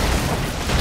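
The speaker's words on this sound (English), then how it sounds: "Explosions." Explosions in the side-scrolling action game BroForce, a dense continuous roar of booming blasts filling the whole moment, loud and close with no pause.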